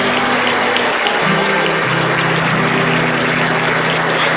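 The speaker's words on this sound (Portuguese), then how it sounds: "Vamos aplaudir ao Senhor Jesus bem forte." A church congregation applauds steadily during a service, a dense continuous clatter of clapping hands that fills the room, with a low droning tone beneath it.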